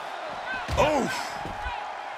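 A wrestler's face is slammed down in WWE 2K23 during a Falls Count Anywhere match, one heavy thud heard under commentary and crowd noise.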